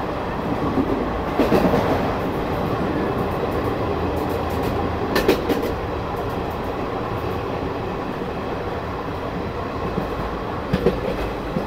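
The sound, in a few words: train departing and passing a station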